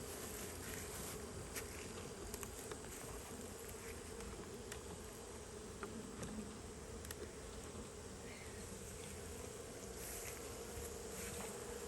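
Honeybees in a declining hive with few bees left, a faint, continuous buzzing drone with occasional individual bees passing close, no voices present.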